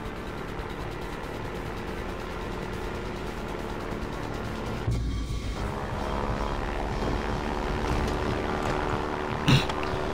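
An aircraft propeller drones in Far Cry 4 gameplay, a steady loud mechanical hum with a brief thump partway through and another short hit near the end.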